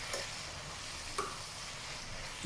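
Soft, steady sizzle of salmon frying in a small pan with a few light scrapes and clicks of a utensil stirring.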